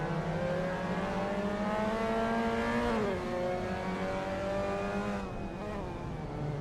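Several race cars rev up and accelerate together at the start of a sim racing game race, giving a steady layered engine drone with rising harmonic pitches and no talk.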